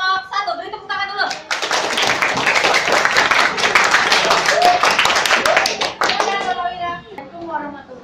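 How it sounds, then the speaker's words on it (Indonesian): A class of children claps for a group presentation, a dense burst of applause that swells and then tapers off, with children's voices before and after the clapping. "Beri tepuk tangan dulu."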